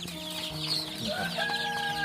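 Two-week-old chicks kept in a crowded nursery cage chirp and cluck continuously, with overlapping high peeps close to the microphone and no talking.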